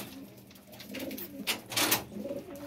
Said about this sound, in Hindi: ये जी इनके कबूतर हैं